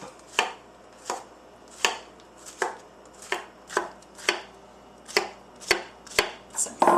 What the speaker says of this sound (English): I'm just going to slice them up